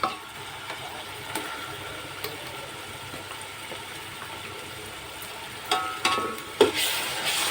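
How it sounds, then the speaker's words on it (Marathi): Garlic paste sautés in a pan for pav bhaji, a soft continuous sizzle with occasional scrapes and stirring clatter growing louder toward the end. "ही आता चांगली परतून घेऊया"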